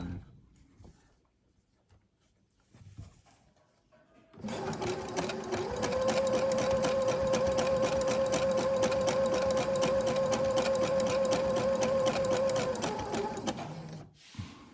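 A sewing machine runs a seam on white briefs being turned into high-waisted briefs, stitching steadily and loudly for about ten seconds after a quiet start, then stopping near the end.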